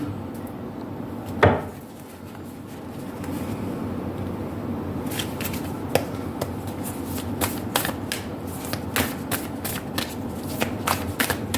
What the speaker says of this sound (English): Now let me shuffle these cards.